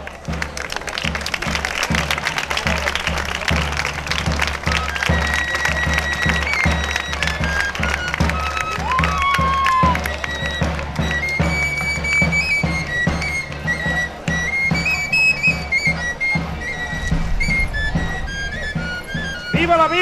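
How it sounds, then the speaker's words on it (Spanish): A crowd at a flower offering to Our Lady of Hope during the La Redondela pilgrimage applauds steadily and loudly throughout, with a dense clatter of clapping and some voices mixed in. "un fuerte aplauso para ellos"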